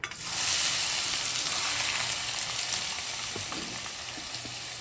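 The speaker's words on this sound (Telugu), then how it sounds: "నూనె వేడెక్కిన తర్వాత మనం తరిగి ఉంచుకున్న ఈ ఉల్లిపాయ ముక్కలు వేసేయాలి" Chopped onion pieces frying in hot oil give off a loud, steady sizzle that bursts up at the start and stays close and constant, with faint stirring scrapes underneath.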